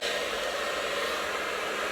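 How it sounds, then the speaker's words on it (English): A blow dryer drying and styling short hair runs continuously at close range, a steady, loud whooshing roar of airflow with no voices. "flipping it back with the blow dryer"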